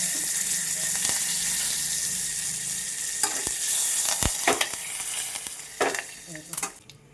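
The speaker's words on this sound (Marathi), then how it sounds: "इथे पहा आपलं तेल तापलेलं तेलामध्ये थोडीशी मोहरी आणि कडीपत्ता टाकूया" Steady crackling sizzle of spices hitting hot oil, with a few sharp pops and clinks near the end.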